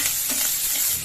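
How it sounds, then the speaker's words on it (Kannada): Mustard seeds, cumin and onion fry in hot oil for a beans palya, giving a dense, continuous close sizzle throughout with no talking. "ಈಗ ಸಾಸಿವೆ, ಜೀರಿಗೆ, ಈರುಳ್ಳಿ ಫ್ರೈ ಮಾಡ್ತೀವಿ."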